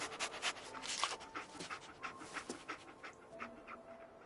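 Dogmeat the dog from the game Fallout 4 pants in quick, steady breaths, faint and close, with no voices.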